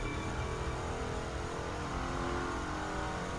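A car accelerates hard with nitro in the racing game The Crew 2, a steady loud engine roar lasting a few seconds with no talk.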